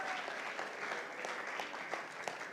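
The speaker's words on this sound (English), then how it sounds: "Let's give them a big round of applause." Audience applauding chefs at a chili cook-off, a steady, moderately distant wash of clapping that holds evenly without breaks.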